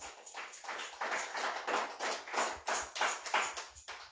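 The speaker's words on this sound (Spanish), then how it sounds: "Dele fuerte aplauso al Señor" Church congregation applauding together during a Spanish-language revival sermon, a dense, steady wash of many hands clapping at moderate distance, rhythmic swells running throughout without speech.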